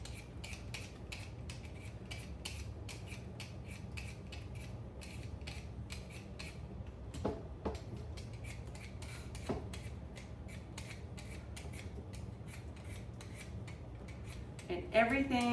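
A potato is peeled by hand for holiday mashed potatoes, a steady run of quick, close scraping strokes with a light clink of kitchenware near the end.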